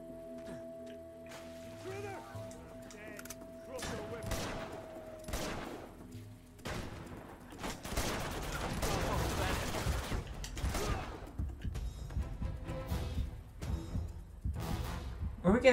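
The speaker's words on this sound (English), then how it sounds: "Were we getting shot at from one other spot?" Rapid gunfire bursts from the video game Uncharted 2: Among Thieves, dense and loud through the second half, with earlier scattered shots and mechanical clatter over a steady tone.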